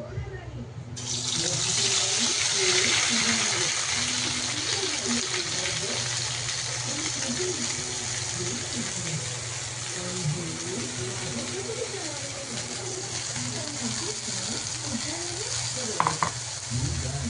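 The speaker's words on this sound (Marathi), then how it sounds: "हे बघा आपलं तेल गरम झालेलं आहे. आता हे वाटण त्याच्यात टाकू." Ground spice paste for a spicy shev bhaji curry dropped into hot oil, setting off a loud, steady sizzle that carries on for the whole stretch with some stirring and a couple of sharp knocks near the end.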